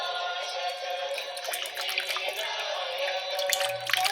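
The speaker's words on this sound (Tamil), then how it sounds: "உள்ள தண்ணி பிடிச்சி ஒரு தடவை அலாசிடுற" Water running and splashing while a mixer jar is rinsed in a kitchen after making coconut chutney, a steady close trickle with small drips and clinks.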